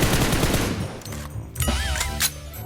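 Rapid automatic gunfire bursts in PUBG Mobile, a dense fusillade for about a second, then a quieter stretch with a few sharper shots and game effects, loud and close.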